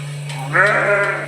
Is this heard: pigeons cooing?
no